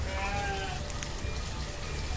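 Sheep bleat in the town-building video game Banished: a few wavering, nasal calls near the start over a steady bed of soft, rain-like ambient hiss.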